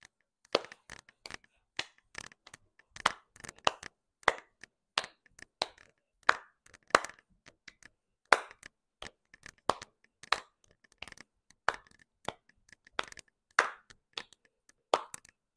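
Sharp single hand claps sound at an uneven, fairly quick pace while someone jogs during a dog relaxation training exercise, each clap close and crisp against near silence.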